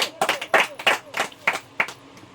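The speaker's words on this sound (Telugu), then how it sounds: "చప్పట్లు కొడదాం అందరూ." A church congregation at a Sunday service claps in a quick burst of about a dozen sharp, uneven claps that fade out after two seconds.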